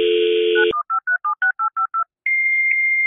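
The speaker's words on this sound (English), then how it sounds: "Okay, let's give Grace a call." A phone dial tone hums briefly, then cuts into a quick run of eight evenly spaced touch-tone beeps, followed by a steady ringback tone.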